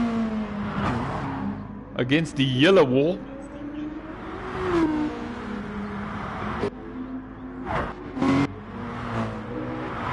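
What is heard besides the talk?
race cars driving in a PS4 racing video game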